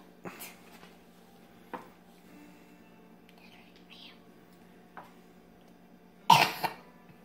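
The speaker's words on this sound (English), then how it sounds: "that was a random cough" A sudden sharp cough near the end breaks an otherwise quiet stretch with only faint small noises.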